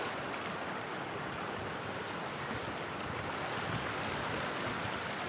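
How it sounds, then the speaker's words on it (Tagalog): Rough sea waves at an islet off Punta Maria, Borongan City, a steady, broad roar of surf and water with some wind noise, continuous and fairly faint, with no voices. "Masungit ang mga alon."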